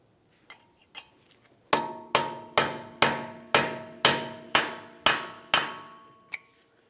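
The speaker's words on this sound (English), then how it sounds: "Use a hammer and punch to break the axle free from the wheel bearing assembly" Ten sharp metallic hammer strikes on a punch, breaking a front axle free from the wheel bearing assembly of a 1994-1997 Honda Accord, evenly spaced and ringing, preceded by a couple of lighter taps.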